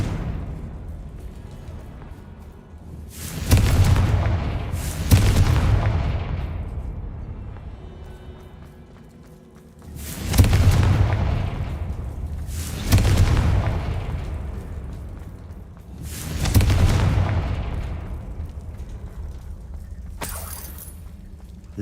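Confringo spell explosions in the video game Hogwarts Legacy, five heavy booming blasts spaced a few seconds apart, each with a sharp attack and a decaying rumble, followed by a brief crackle near the end.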